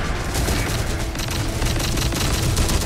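Dense, continuous gunfire in the Terminator: Dark Fate - Defiance strategy game, overlapping rapid shots and booms forming a loud, steady barrage throughout.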